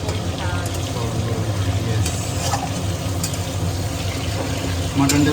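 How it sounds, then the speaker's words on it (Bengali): Potatoes frying in a pan, a steady sizzle with stirring and scraping throughout, close and fairly loud, with brief clinks and a voice speaking quietly underneath. "বসিয়ে দিই আলুগুলো ফ্রাই হচ্ছে"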